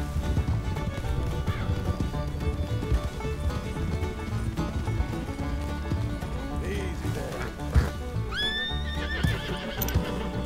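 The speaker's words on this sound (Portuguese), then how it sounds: "Olha ali o cara com seu cavalo." A horse whinnies and hooves clop amid busy game music and ambience in a horse-breeding game scene in the mountains at night, with a sharp neigh rising near the end.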